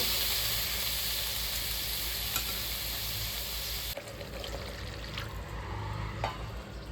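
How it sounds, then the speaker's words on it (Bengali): Water poured into a hot frying pan of coriander-leaf paste masala for a Chapila fish curry, giving a loud broad hiss and sizzle that drops abruptly partway, then continues as quieter bubbling with faint clinks. "এবার এর মধ্যে আমি জল দিয়ে দিচ্ছি।"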